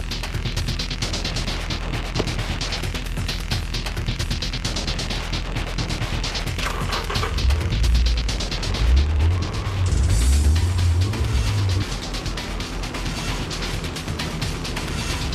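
A drift car driven flat-out by Kiichi Tsuchiya around Ebisu Circuit, its engine roaring steadily and loud throughout, with heavy low rumbles and harsh bursts of tire and exhaust noise rising midway.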